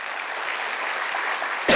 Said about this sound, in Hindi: तो ताली बजाओ फिर